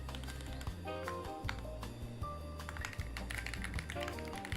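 Clicky mechanical keyboard keys clatter in quick, uneven bursts of typing, close and steady over a low background hum.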